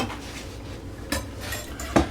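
A big kitchen knife clatters against a skillet of French onion chicken, with a few sharp metallic clinks and scrapes over a low background hum, no talking.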